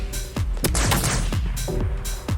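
Rapid rocket weapon blasts in the Krunker shooter game, several sharp booming explosions in quick succession over about two seconds, loud and close with no voices.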